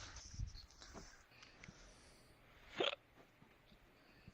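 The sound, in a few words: hiccup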